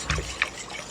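Yogurt being whisked into milk in a bowl for Instant Pot yogurt, making a brief, soft liquid swish and dribble with a couple of light splashy strokes.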